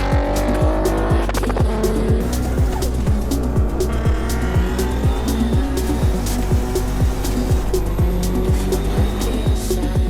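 A BMW 435d races hard, its engine roaring loud and close as the tires squeal and skid in repeated bursts for the whole stretch, with no voices.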